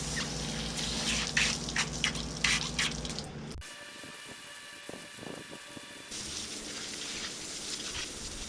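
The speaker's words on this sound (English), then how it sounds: "Sprayed it down into the cracks just to give me enough lift," Water sprayed from a hose down into the cracks of a patio, a steady hissing, splashing wash that cuts out briefly midway and then resumes close by, with no talking.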